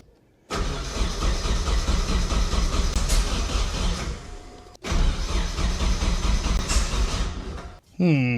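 Turbo Datsun wagon engine cranking over repeatedly without catching, in two long loud bursts of steady starter churn separated by a short pause, then a brief third burst at the end.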